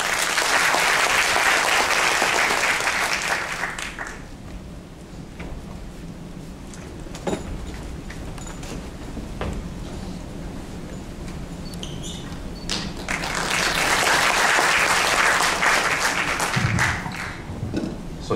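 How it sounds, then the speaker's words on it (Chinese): An audience at the opening of an international symposium on hand-built trails applauds to welcome the Forestry Bureau director to the podium. Loud, dense clapping fills the first few seconds, fades to a quieter stretch, then swells again near the end. "掌声欢迎"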